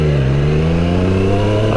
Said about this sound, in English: the exhaust is kind of whistling now, which is really nice sound